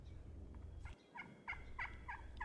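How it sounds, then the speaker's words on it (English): Wild turkey toms gobble hard in the outdoors, a series of about five rattling gobbles at moderate distance, one after another over a low steady background rumble. "toms were gobbling hard to the hens they were with and to us"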